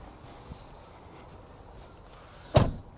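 A quiet room tone, then one solid thud of a car's passenger door shutting close by near the end, with a faint knock earlier.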